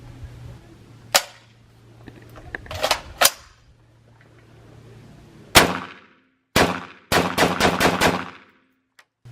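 A Kel-Tec RDB rifle fires at an outdoor range: single sharp cracks at first, then a quick string of rapid shots near the end, each ringing briefly, loud and close with quiet gaps between.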